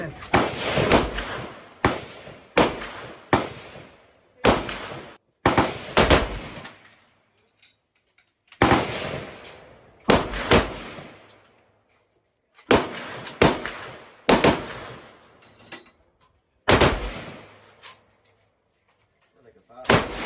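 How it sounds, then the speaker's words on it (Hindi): An AK-47 rifle fired at a shooting range, roughly ten loud, sharp reports spaced a second or two apart, some in quick pairs, each with a ringing decay, close to the listener. "AK-47 की 10 गोलियां चलाई मैंने"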